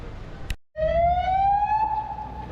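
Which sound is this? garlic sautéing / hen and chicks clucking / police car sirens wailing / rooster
police car sirens wailing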